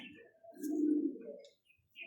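An imported Taiwan racing pigeon gives a single soft, low coo lasting under a second, close and quiet, with faint chirps around it.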